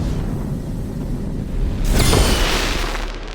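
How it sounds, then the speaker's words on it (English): Trobbio's entrance in Silksong: a rumbling bed of sound erupts into a bright fireworks burst with sparkling crackle and a heavy boom, loud and sustained to the end. "Trobio bursts onto the stage, making an epic entrance surrounded by fireworks."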